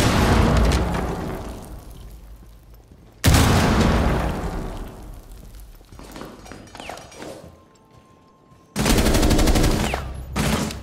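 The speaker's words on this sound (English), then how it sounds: "Frag grenade out!" Gunfire and explosions from Rainbow Six Siege: a loud frag grenade blast opens, then rattling bursts of gunfire, then a second sharp, loud explosion near the end. Booming impacts decay between the blasts.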